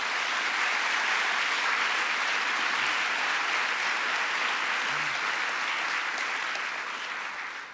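An audience at a political announcement with Governor Cuomo and Vice President Gore breaks into sustained applause, a loud, steady wash of clapping that fades slightly at the end.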